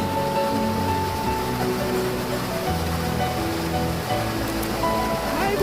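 Water flowing in a mountain valley stream, a dense, continuous rushing wash that stays steady and close throughout with no pauses.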